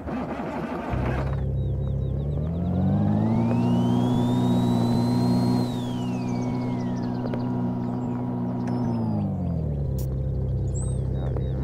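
Video game tractor engine accelerating in My Truck Game, a steady tonal drone that rises in pitch, holds while revving, then falls back and cuts off near the end, with faint electronic tones above it.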